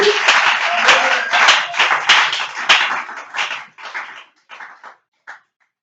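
A church congregation claps during a sermon, loud close rhythmic clapping that gradually thins into a few scattered claps and fades to silence before the end.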